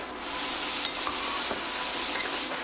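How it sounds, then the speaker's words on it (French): Cubes of beef for Vietnamese shaking beef sizzle loudly in a hot wok as it is tossed, a constant close crackling hiss with faint shuffling knocks. "on peut juste venir s'amuser à shaker notre bœuf pour finir la cuisson"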